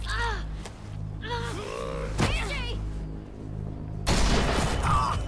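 Gunfire from The Walking Dead: The Final Season video game: a loud burst of shots, then another sharp blast a couple of seconds later and a heavier volley near the end, set against a low steady rumble with no talking.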